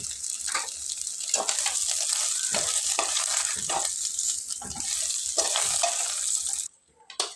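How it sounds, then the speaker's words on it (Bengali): Fish, tiny three-kantali fish for a sour dish, sizzling and frying in hot oil in a pan, with repeated stirring scrapes in an irregular rhythm over a continuous crackle, cutting out briefly near the end. "লাল লাল করে ভেজে নিতে হবে"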